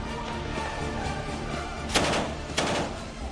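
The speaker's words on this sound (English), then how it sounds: "shelling and sniper and artillery attacks are still dominating the atmosphere in the city" Gunfire and artillery in the Syrian city of Al-Qusayr, two sharp cracks about half a second apart standing out over a constant noisy background rumble.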